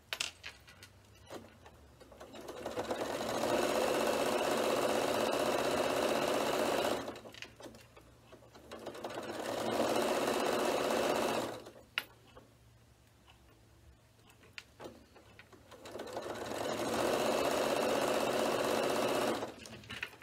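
A sewing machine stitches a handmade bag over previous stitching in three sustained runs separated by short pauses, close up and steady, with faint clicks and handling between bursts.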